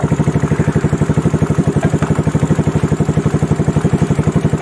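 A Yamaha Mio Smile scooter engine idling while its battery is being charged, with a steady, rapid, even chug of pulses close by throughout, and no talking.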